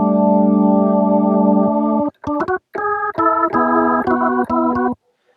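A rich, full-bodied Hammond organ with drawbars set to 8888000000 sustains a held chord, then plays a series of short detached chords with brief gaps, bright and close.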